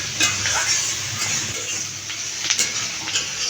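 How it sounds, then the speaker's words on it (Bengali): Chopped onion and spring onion frying in a pan, a bright steady sizzle broken by irregular scraping stirs and light clinks of a utensil against the pan, close and fairly loud, with no one speaking. "পেঁয়াজ কলি দিয়ে পেঁয়াজ কুচি দিয়ে একটু ভাজি করে নিব"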